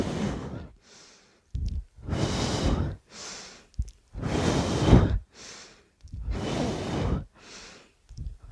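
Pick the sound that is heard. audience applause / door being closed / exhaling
exhaling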